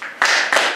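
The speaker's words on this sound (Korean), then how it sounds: "박수 세 번" Three sharp hand claps ring out close and alone: a first at the very start, a second a moment later, and a third soon after, each a crisp slap with a quick decay and no talk between them.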